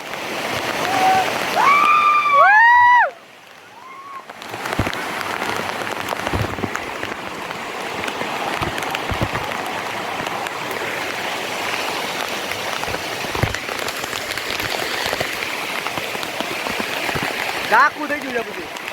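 Heavy monsoon rain pours in the Girnar hills near Junagadh, making a dense, steady hiss of drops splashing on surfaces. Early on, a louder stretch carries some whistling or tonal sounds, then the downpour continues with scattered splashes and faint voices.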